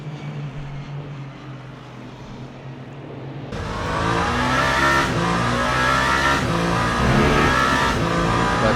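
A race car in Le Mans Ultimate during a 24-hour race at Le Mans drones steadily, then rises to a louder, continuous high-revving engine note with repeated gear shifts and no talk.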